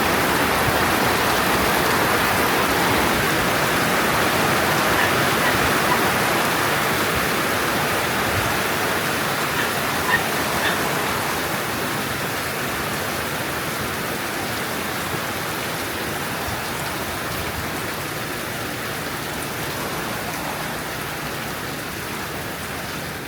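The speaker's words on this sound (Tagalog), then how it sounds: "Tumagal din ang ulan ng halos 15 minuto." Heavy rain pours down at night on a beachside hut, a dense, steady hiss that holds for the whole stretch and eases only slightly toward the end.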